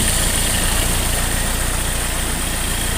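A 4-cylinder engine with a conventional ignition system idles steadily and loudly at close range, producing an even mechanical hum with no speech.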